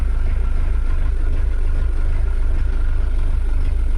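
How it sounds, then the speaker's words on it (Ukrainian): A Scout TE 504 S tractor engine runs steadily right after starting, a loud, low, throbbing diesel idle with an even pulsing rhythm and no voices over it. "Мені трактор запустився."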